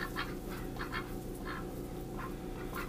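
A duck named Dot quacks in short, faint bursts, about eight of them, over a constant low rumble of background noise.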